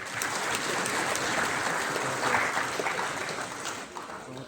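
An audience at an education department meeting in Bihar claps, a sustained, fairly distant wash of applause rolling on for several seconds.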